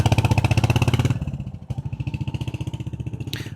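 A motorcycle on a test ride, its engine throbbing in a fast, steady beat close by, easing off after the first second and then settling into a slower, even thump.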